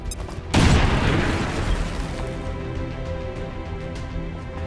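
A grenade explodes in XCOM 2: one sudden loud near blast that opens the clip, then a long rumbling decay with a low tonal game score underneath.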